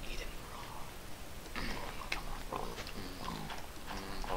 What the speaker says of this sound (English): Oh, there's a pig.